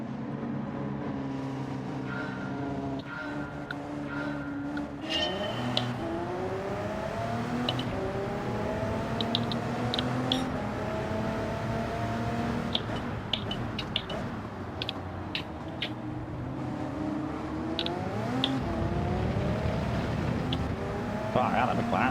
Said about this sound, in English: Far out, that McLaren just up and goes.